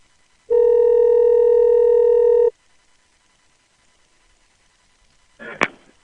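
A Google Voice call opens with a loud, steady phone dial tone lasting about two seconds, then silence, followed by a brief click-like burst near the end.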